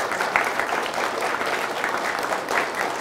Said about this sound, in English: How about a round of applause for Youth Central and Ian Bazalgette?